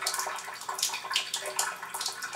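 Water runs from a Chanson Miracle water ionizer into a cup as a continuous close splashing stream with fluttering bubbly texture, with no talking.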